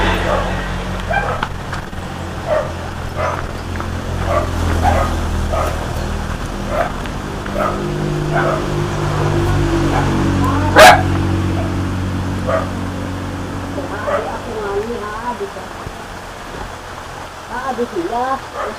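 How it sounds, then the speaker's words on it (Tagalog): A dog barks repeatedly in short bursts at a rural home after rain, moderately near, mixed with a low vehicle rumble and people talking. "May aso ka na."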